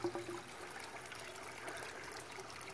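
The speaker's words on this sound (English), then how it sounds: "from those overflow tubes, one in that and one in that, comes out through that pipe and this pipe and drains down" Water drains from overflow pipes in a 600-gallon aquaponics system, a soft continuous trickle and gurgle heard close by with no talking.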